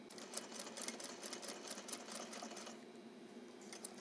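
Juki DDL-8700 industrial sewing machine stitching with 50 weight cotton thread, a quiet, steady rapid needle patter running continuously, fairly soft and close, with no talking.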